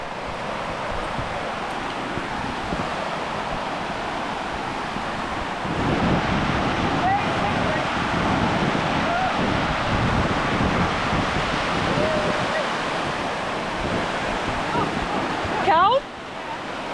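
Steady broadband rush of a waterfall spilling into a hidden water hole, a continuous close roar that swells slightly midway, with a brief sharp disturbance near the end.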